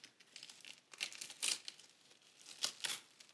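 Plastic plant packaging around a Hoya Microdwarf NS12-323 crinkles and tears close up as it is cut open, in short rustling bursts with a couple of sharper rips.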